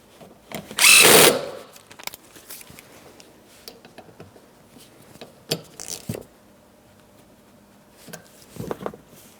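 A power tool briefly runs at close range to snug a rear seat belt bolt inside a 2008-2016 Chrysler minivan, a single loud burst followed by quieter clicks and handling noises.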